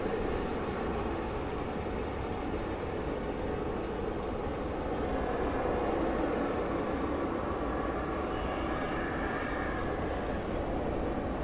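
An airliner at DFW Airport departing for Louisville, a continuous broad jet roar at moderate distance that holds steady throughout with no talk.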